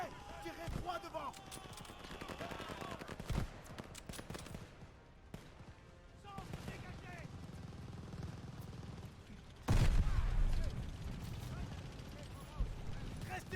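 Bursts of rifle and machine-gun fire in the World War II shooter Call of Duty: Vanguard, with heavy blasts and battlefield noise, a loud hit near the end, and voices shouting orders in French over the combat.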